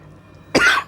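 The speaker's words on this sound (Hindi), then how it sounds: "थोड़ा खांसी" A single short, harsh cough bursts close up from a teacher during an online class, loud and abrupt after a quiet pause.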